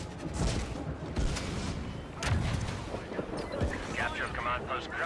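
Continuous game gunfire and booming blasts from a Star Wars Battlefront 2 mod battle, dense and steady throughout with sharp reports layered over rumbling explosions, and a voice talking faintly underneath.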